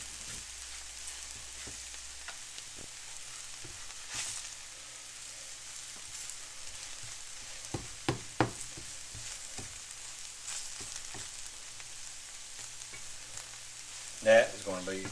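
Wild poke greens fry crispy in a pan, a steady soft sizzle running throughout, with scattered scrapes and taps as the greens are turned and a louder clatter near the end.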